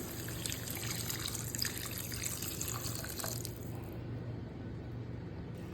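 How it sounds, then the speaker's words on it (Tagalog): A thin stream of water trickles and splashes steadily into a cooking pan of pancit canton seasoned with black pepper, fairly quiet and close, with no talking. "lagyan natin siya ng tubig."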